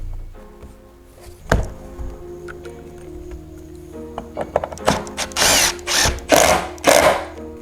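Power drill backing a screw out of an exterior door jamb, heard close and loud: a few short whirring bursts that build into longer, rising-and-falling drill runs with bits of tool handling between them.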